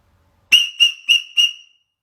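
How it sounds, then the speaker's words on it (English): A marine whistle used as a turkey call gives four short, sharp, shrill blasts in quick succession, close and loud against silence. "A whistle. Hey. Marine whistle."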